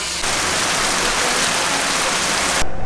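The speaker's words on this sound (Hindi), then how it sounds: "जब जा रहे हैं तब भी बारिश हो रही है।" Heavy monsoon rain pours at Tamhini Ghat in Maharashtra, a dense, steady roaring hiss that fills almost three seconds before cutting off abruptly.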